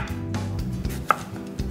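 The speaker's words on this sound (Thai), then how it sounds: "เราก็จะหั่นแอปเปิลค่ะ" A knife chops an apple into small dice for a dessert filling on a Thai cooking show, with steady rapid thuds on the board close by and no talk.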